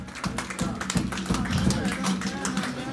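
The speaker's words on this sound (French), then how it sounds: "À nous applaudir," A church congregation claps steadily, a dense patter of many hands at moderate volume, with a voice speaking over it.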